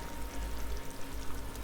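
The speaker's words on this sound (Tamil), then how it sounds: "இந்த டைமில் நம்ம கட் பண்ணி வச்சுருக்கிற உருளைக்கிழங்கை சேர்த்துடலாம்." Two large potatoes, cut into big pieces, go into a pan of simmering egg curry, giving a soft, steady watery pour and hiss with no talking.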